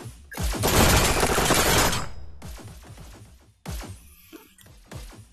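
Heavy automatic gunfire in a VR shooting game, a loud sustained burst followed by several shorter blasts and booming impacts, close and dominant.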